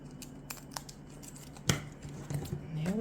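Scissors snip through paper while an envelope is being trimmed, a few quiet close cuts with light paper rustle, no talking.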